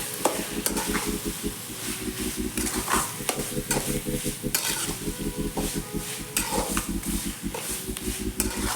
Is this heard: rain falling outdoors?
no